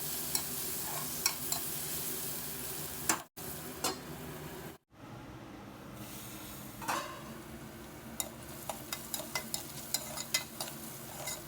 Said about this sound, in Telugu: ఒక చిక్కడి పసుపు కూడా వేసేసి ఒకసారి బాగా కలిపి మూత పెట్టి ఆనియన్స్ని బాగా కలర్ చేంజ్ అయ్యే వరకు ఫ్రై చేద్దాము